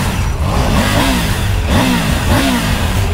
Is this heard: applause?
no